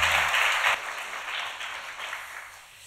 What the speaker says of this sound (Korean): 우리 수고한 모든 분들을 위해서 영광의 박수 하나님께 드리도록 하겠습니다